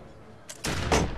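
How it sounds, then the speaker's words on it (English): Gunfire in the video game Expeditions Conquistador: after a brief sharp crack, a heavier shot bursts out and echoes, followed by a second louder report, close and punchy. "We'll try firing twice."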